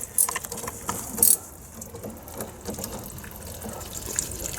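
Water gushes from an undone water pipe near a beam, a steady close rushing flow with a few brief louder knocks and splashes early on, no voices over it.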